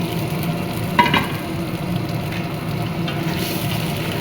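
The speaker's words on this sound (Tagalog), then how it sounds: "At yung sabaw niya guys na pinaglagaan natin, pinaglambutan ng karne ay ating ilalagay dito sa ating ginisang karne" Pan of sautéed meat sizzling steadily as broth is added, a soft continuous fry with a brief splash of liquid early on, close and moderately quiet.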